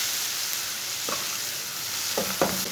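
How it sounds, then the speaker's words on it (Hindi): Chopped onion with whole cumin and coriander seeds fries in a pan, a soft steady sizzle with a few quiet scrapes of stirring near the end. "प्याज को 3 मिनट तक पका लेंगे।"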